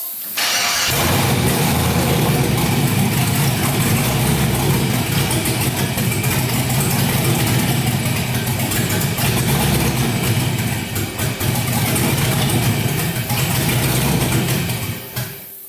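An LS-swapped car engine fires up and runs on sprayed starting fluid, a loud continuous roar with rough uneven revving held for many seconds before dropping off.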